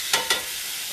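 Small triangle tip steaks frying in a hot pan, giving a steady faint sizzle with two brief louder hissing bursts near the start.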